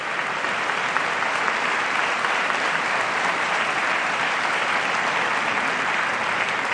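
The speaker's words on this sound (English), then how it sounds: "So if you could all stand and give them a round of applause." Steady, sustained applause from a large audience, dense clapping filling the whole stretch at an even, loud level.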